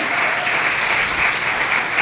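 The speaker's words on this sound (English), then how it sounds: "especially its co-chairs, who need a round of applause" Sustained applause from a dinner audience honoring the committee co-chairs at a Queens County women's bar association event, steady dense clapping filling the room for two seconds without speech.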